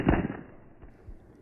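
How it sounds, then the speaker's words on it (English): Several sharp gunshot bursts from more than one weapon in Gaza, a dense crack at the start followed by scattered, weaker reports, muffled and somewhat distant with no voices. "The gunfire came from more than one weapon."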